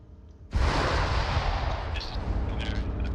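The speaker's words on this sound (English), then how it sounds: "he hit an AT mine, he's already cooking off" In the Arma 3 Iron Front video game, a tank strikes an anti-tank mine and a loud, close blast erupts suddenly after a brief quiet moment, then a long rumbling roar with faint crackles of debris as it fades.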